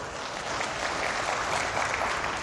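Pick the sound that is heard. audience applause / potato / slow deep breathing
audience applause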